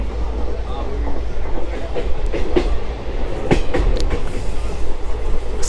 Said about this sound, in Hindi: मुझे लगता है कि 6-6 किलोमीटर पे ट्रेन रुकती जाती है।